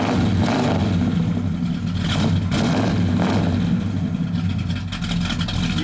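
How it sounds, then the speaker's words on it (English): Dual exhaust of a 1970 Pontiac GTO burbles at a loud, close, throaty idle, with a few swells of revving rising and falling throughout and no voices. "That dual exhaust sounds great."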